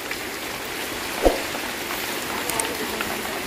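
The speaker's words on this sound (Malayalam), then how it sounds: "നല്ല മഴയും പെയ്യുന്നുണ്ട്." Heavy rain falls in a continuous, even hiss with one brief knock partway through, steady and fairly close throughout.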